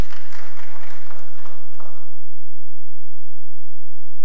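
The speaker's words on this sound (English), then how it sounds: "A round of applause for him." Audience applause at a National Defense College Course 28 graduation lecture: a dense burst of clapping that fades away after about two seconds, leaving a quiet room.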